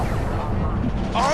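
Gunfire rattles through a video game firefight as loud, dense bursts of shots and booms, with voices talking over the continuous barrage.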